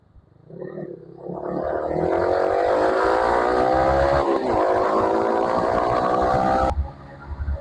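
A motorcycle on the road, its engine rising and holding a steady droning whine at close range before it cuts down briefly near the end.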